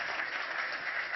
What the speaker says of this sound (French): Vous pouvez l'applaudir, monsieur le Premier ministre.